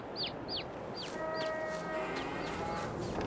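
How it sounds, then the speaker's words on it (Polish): Several short chirping calls from chicks in Farming Simulator 22 repeat in a quick series over a steady farmyard background, with a faint sustained tone in the middle. "Zobaczcie, małe pisklęta też są kogut, kaczka."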